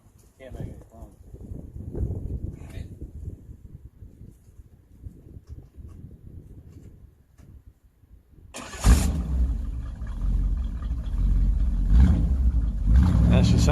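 Quiet talking at first, then a 1955 Chevrolet engine cranks and catches, settling into a loud, steady rumbling idle close by.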